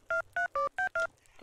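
Five evenly spaced dual-tone beeps from a telephone keypad being dialed in the farming game Stardew Valley, each short tone clear and loud with brief gaps between them and no talk.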